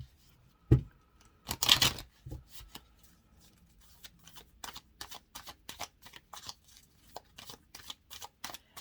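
Tarot cards shuffled by hand during a Cancer reading: a sharp riffle burst early, then a long run of quick, crisp card slaps and flicks in an uneven rhythm, close and fairly quiet with no talking.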